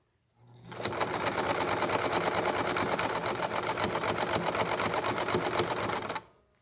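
A sewing machine runs steadily for about six seconds, stitching a rope bowl wrapped in sari silk ribbon, a dense continuous mechanical whir that starts and stops cleanly with no talking.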